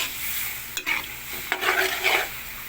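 Pork stir-fried in a pan for pancit canton, a close steady sizzle broken by two sharp spatula clacks and scraping tosses, no talk.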